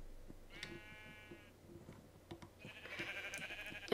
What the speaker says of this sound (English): Just mostly sheeps.